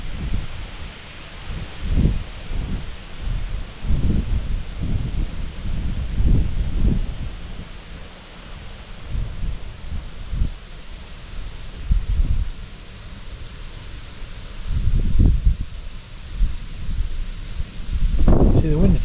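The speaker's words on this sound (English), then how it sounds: "See, the wind's died off just slightly and then it comes back again." Steady coastal wind on the UK East Coast during sea fishing, a continuous rushing buffet that swells and eases in low gusts across the microphone, with a stronger blast near the end.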